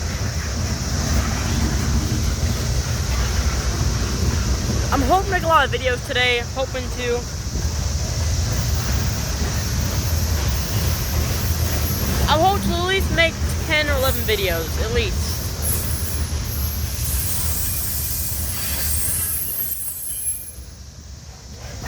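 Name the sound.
slow-moving train passing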